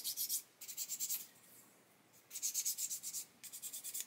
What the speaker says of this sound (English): So you can see I can go over the sanding stick absolutely fine